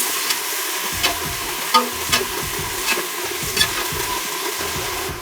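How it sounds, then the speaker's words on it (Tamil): Onions fry for a beetroot biryani in a steady, loud sizzle, with a spoon scraping and knocking against the pan every second or so as they are stirred, near and without speech. "அடுத்து வெங்காயத்தை போட்டுக்கிறேங்க"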